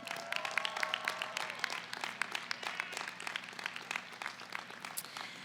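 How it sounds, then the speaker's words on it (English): Applause from a graduation ceremony audience, a moderate crowd clapping with distinct individual claps audible, steady and slightly thinning over several seconds in a large hall. "so please give them a round of applause as well."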